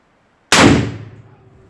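A Ruger Old Army .45 black powder muzzle-loading revolver fires a single loud, sharp shot that booms and then rings out over about a second.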